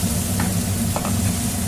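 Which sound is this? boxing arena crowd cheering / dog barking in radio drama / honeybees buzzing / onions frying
onions frying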